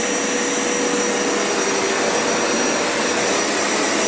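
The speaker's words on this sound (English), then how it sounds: "Let's turn this machine on, deep clean, and finish it off." A Hoover Power Scrub Elite Pet + Carpet Cleaner, FH50251 Professional Series, running: a loud, steady, close motor roar with a constant whine and no changes in level, heard alone without talk.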